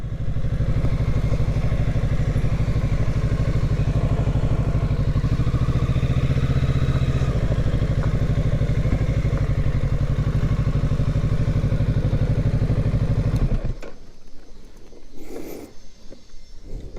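Kawasaki Ninja 650 motorcycle engine heard while riding to Bua Tong waterfall in Chiang Mai, a loud steady drone with wind rush for about thirteen seconds before cutting away to quieter sounds.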